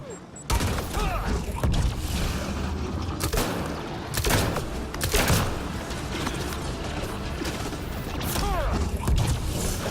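Mass Effect: Andromeda gunfire in a fight aboard the Salarian Ark, sharp repeated shots and mechanical clatter in bursts over a dense battle din, with no clear talk.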